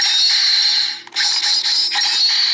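A Ninninger Ninja StarBurger toy from the Super Sentai series emits bright, hissy electronic sound effects, loud and continuous for a couple of seconds with one brief dropout, no talking.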